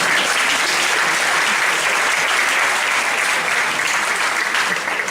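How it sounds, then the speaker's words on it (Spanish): Audience at a Spanish-language talk gives steady, dense applause that carries on evenly at full strength for several seconds, with no voices rising above it. "Un aplauso para ti."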